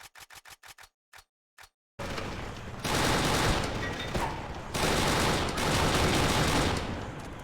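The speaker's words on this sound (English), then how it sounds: "my guns weren't shooting" Gunfire in the video game Kane & Lynch 2: Dog Days, a few sharp clicks at first, then dense sustained machine-gun fusillades, loud and continuous, with no talking.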